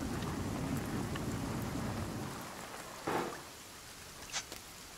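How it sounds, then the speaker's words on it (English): Steady rain pouring in the Sons Of The Forest video game, loud and broadband for about two seconds before thinning out, with a few short crackling bursts afterward; no talking. "You said you need water and it starts raining."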